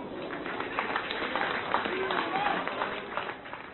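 A football crowd of just over a thousand at a Manchester City reserve match applauds Tevez at half-time, a steady mass of clapping with a voice heard over it.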